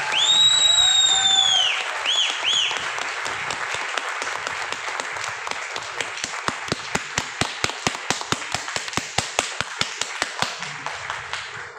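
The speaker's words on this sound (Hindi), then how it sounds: "लेकिन तालियां जोरदार वाली से" An audience at an event applauds, a broad wash of clapping that thins into sharp, evenly spaced loud claps near the end, with whistles and brief voices at the start.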